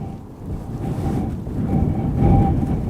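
Airbus A319 airliner at Aberdeen Airport during a storm, a low rumbling roar swelling steadily over three seconds, mixed with gusting wind buffeting the microphone.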